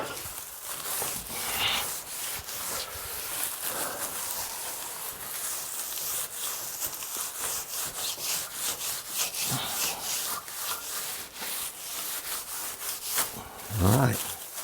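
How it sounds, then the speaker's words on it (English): A wooden bead and cove molding being burnished by hand with traditional hand tools, producing steady, close rubbing strokes in a continuous rhythmic scrape lasting throughout. "And then I burnish it in a traditional manner."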